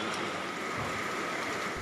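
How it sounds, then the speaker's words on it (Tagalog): Heavy rain from a low-pressure area in Davao City hisses evenly and continuously, a dense wash of falling water heard at a moderate distance. "Ang ulan, sinabayan pa ng pagkidlat."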